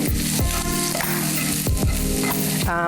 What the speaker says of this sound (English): because it's sizzling away